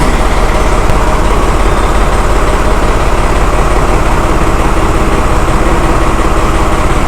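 A 2021 New Holland Super Plus tractor's engine runs loud and close in a steady, throbbing idle while the hydraulic lift is worked by button, with no talk over it.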